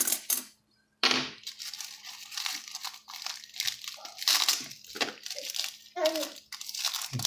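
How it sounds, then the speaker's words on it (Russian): Packets of commemorative coins being torn open, giving close crackly crinkling and crunching of packaging in repeated bursts, with coins clinking in between and a short silence near the start. "Пакетики будем разрывать, чтобы побыстрее открыть."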